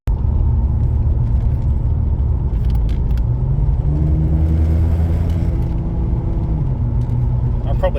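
A car with a suspected faulty automatic transmission is driven in first gear, giving a constant loud, low rumble inside the cabin, with engine pitch slowly climbing and easing off and faint rattles along the way.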